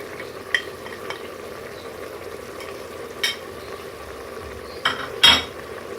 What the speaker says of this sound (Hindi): इसको तकरीबन 10 मिनट तक हम ऑयल में भूनेंगे।